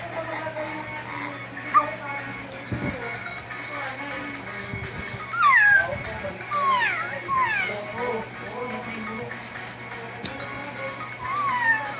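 A kitten meows in a bedroom at sleep time, a few thin, rising and falling cries mid-clip amid quieter rustling, with a voice and other talk around it.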